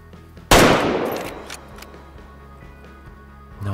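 A single sharp, loud sniper rifle shot from the hunting game Way of the Hunter, an abrupt crack followed by a long fading echo that rolls off over a few seconds.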